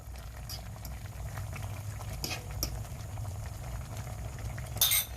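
Beaten egg goes into sautéed bitter melon in a pan, with a steady close sizzle and light bubbling crackle throughout and a brief louder spatter near the end.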